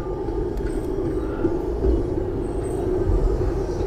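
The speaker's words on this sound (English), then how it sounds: "It's the Great Western Train Tram." A Blackpool tram passing along the promenade, a steady low rumble that swells and fades over a few seconds, moderately close, with faint outdoor background and no talk.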